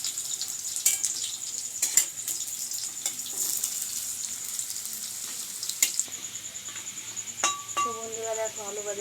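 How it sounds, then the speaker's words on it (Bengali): Potatoes fry in a wok (kadai) at home, a soft, continuous crackling sizzle broken by scattered sharp clicks and utensil taps, with faint background voices at the end. "আমি আলু ছেড়ে দিয়েছি কড়াইয়ে, আলু ভাজা হচ্ছে।"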